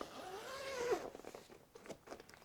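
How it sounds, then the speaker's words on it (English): The zipper on the bag of a RALENO 800W softbox lighting kit is pulled open in one quiet, rising zip lasting about a second, followed by faint rustling and handling noises. "Unzip it, let's have a look."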